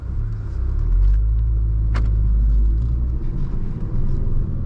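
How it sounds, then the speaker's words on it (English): A Ford Focus ST with a manual gearbox pulling away, its engine giving a deep, steady rumble heard from inside the car, with a sharp short click partway through. "let's go ahead and take this Focus ST for a quick spin and see how it drives"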